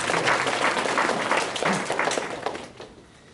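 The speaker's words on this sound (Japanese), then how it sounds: "じゃあ、ちょっと拍手してください。" An audience at a Japanese programming talk about Perl claps, a short burst of applause that starts full and fades out within a few seconds.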